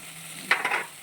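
Vegetables frying in a pan with ginger-garlic paste for veg biryani give a short, close sizzle, with a brief burst of stirring scrapes in the middle.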